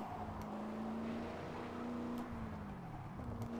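Continuous car engine drone from the racing video game Gear.Club Unlimited, a steady mid-pitched hum that shifts and dips as the car slides through a handbrake turn, with faint tyre and road noise throughout.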